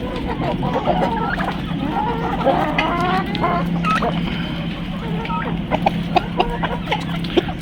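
Large rooster, roughly eight kilograms, clucking and crowing in short warbling bursts among other fowl, close and fairly loud over a busy background, with someone talking intermittently.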